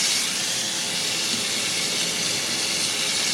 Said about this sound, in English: you want to lay the shrimp